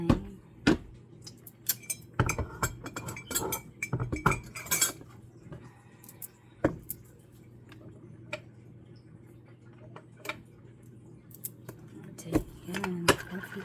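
A teaspoon clinks repeatedly against a cup while coffee is made with sugar, sharp irregular metallic taps close by, clustered densely at first and then sparser.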